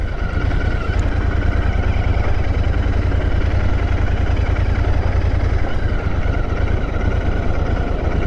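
A motorcycle engine idles close by on arrival at Nargol beach in Gujarat, a loud, steady low throb with a fast even pulse that runs unbroken throughout, with no voices.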